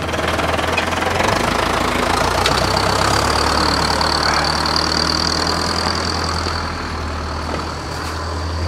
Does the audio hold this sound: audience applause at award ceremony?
no